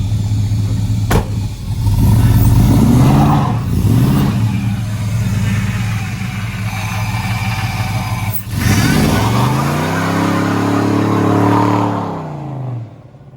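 A rebuilt 6.0 Chevrolet Monte Carlo SS engine revs loudly up close, rising and falling in several throttle blips over a rumbling idle, with no talk over it.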